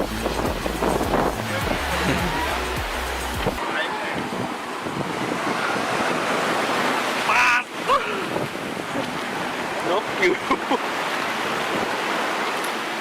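Sea waves on Cha-am beach in Phetchaburi on the Gulf of Thailand, a constant wash of surf mixed with heavy wind buffeting the microphone, steady and fairly loud, while a person talks over it.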